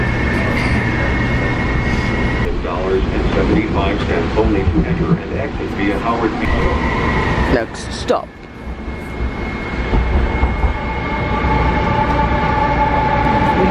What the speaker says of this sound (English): We're getting the air train.